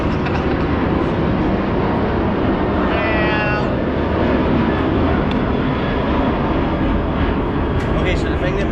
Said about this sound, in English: let's wait for the plane to go